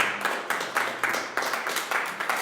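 A church congregation applauding in steady, close rhythmic claps, moderately loud and continuous with no talk over it.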